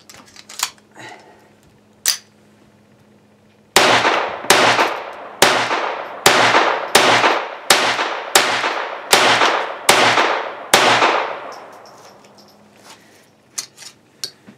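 A Browning Buck Mark .22 LR pistol firing Winchester white box ammunition, about ten sharp evenly spaced shots from a 10-round magazine, loud and close, each with a short ringing decay, followed by quieter handling clicks.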